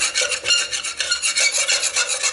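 A utensil scrapes steadily across the bottom of a pan as beef broth boils during deglazing for onion soup, a close, rhythmic rasping of repeated strokes with no voices.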